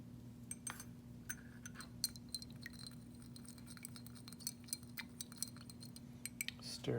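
Spoon stirring white solid unknown 2 into water in a glass beaker: a run of quick, light metallic clinks and taps against glass over a steady low hum, fairly close and clear.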